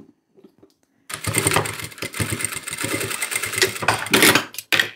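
A sewing machine stitches a fabric seam with a 0.5 cm margin on a shoulder bag, starting after a quiet moment and running in a close, rapid mechanical rattle with brief pauses and restarts.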